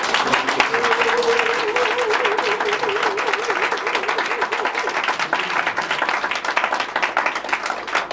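A church congregation at a French-language worship service breaks into sustained, dense applause, loud and steady throughout, with a sung or held voice tone rising under the clapping for the first few seconds.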